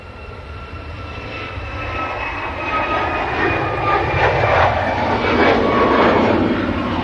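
An aircraft departs from Manchester Airport, engine roar building steadily from a moderate rumble to a loud, close, sustained thrust with a rising tonal whine.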